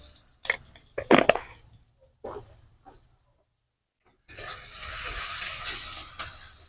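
Chopped onions with a little sugar start sizzling in a pan, a steady hiss that rises suddenly after a few scattered clatters and stirring knocks, continuing loud and even to the end.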